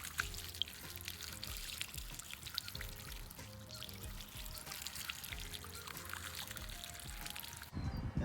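Water pours steadily over a freshly repotted crabapple bonsai, a soft continuous splashing and trickling that runs for several seconds at close range with no talking.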